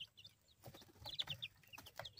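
Chickens on a small homestead cluck in short, bright bursts close by, several calls scattered over a couple of seconds against a low, faint background hum.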